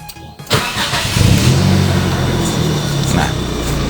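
Car engine starting and revving during a thermostat check, a catch and quick rise into a steady mid-pitched running roar close by, with speech present.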